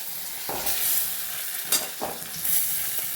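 Potatoes go into a frying pan already seasoned with red chili powder, setting off a loud steady sizzle with a few sharp scrapes and stirring clatters from close by.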